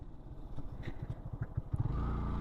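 A motorcycle rides along a road in Bangladesh, its engine a steady low drone with rhythmic pulsing that swells louder and rougher near the end as it picks up speed.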